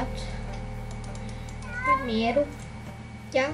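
Minecraft cat meows come in two or three short rising calls against a steady game-music bed, with a voice faintly present in the background.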